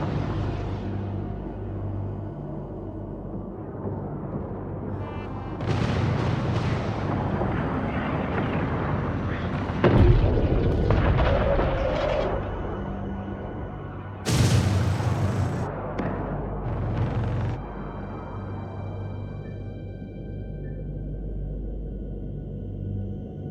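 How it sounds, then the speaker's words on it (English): Heavy booming blasts and crackling explosions roll out as a frigate is destroyed in the space strategy game Homeworld 3, with several loud bursts over a sustained rumbling background. "Frigate destroyed."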